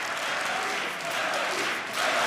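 Arena crowd at the Dreamhack Winter 2014 Counter-Strike grand final in Jönköping roaring and applauding, a dense continuous wall of cheering and clapping that swells louder near the end.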